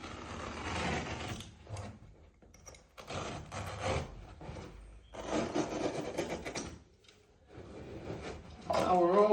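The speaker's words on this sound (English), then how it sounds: "just going to trim off this last piece of waste" A knife trimming off a waste strip of wool carpet during an installation, giving repeated rasping, scraping cuts in bursts with short pauses, fairly close, with faint talk underneath.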